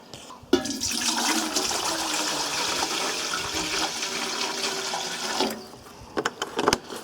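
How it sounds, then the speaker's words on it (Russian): Water and moonshine made from apricots pour steadily into a bucket, a continuous close splashing rush for about five seconds, then stopping, followed by a few brief knocks and drips. "Сначала наливаем в ведро воду, а затем самогон"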